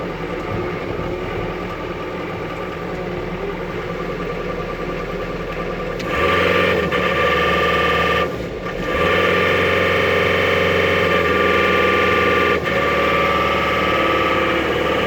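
A John Deere 326E skid loader's diesel engine warms up with a steady, close idle that climbs to a louder, higher rev partway through, with a brief dip before it settles into a stronger drone.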